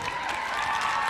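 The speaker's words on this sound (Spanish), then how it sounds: "Un aplauso para Marisol Terrazas, por favor" Audience applause at a stage pageant expo as a contestant is introduced, a brief, steady wash of clapping from a crowd with no voices over it.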